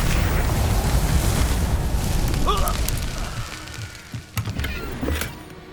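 A Confringo fire spell in Hogwarts Legacy bursts with a heavy rumbling blast that trails off into scattered crackles and thuds, with brief character voices in the mix.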